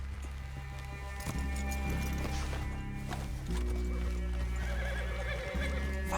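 Horses in Red Dead Redemption 2 stand close by, snorting and shifting their hooves, and one breaks into a loud, drawn-out whinny near the end over a steady outdoor backdrop.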